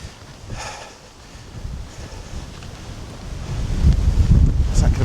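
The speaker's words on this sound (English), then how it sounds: "It's not going to be too windy, it's just blowing up this valley." Wind blows up a valley on a hillside coastal walk near Eary Cushlin, Isle of Man, buffeting the microphone in gusts that build louder toward the end.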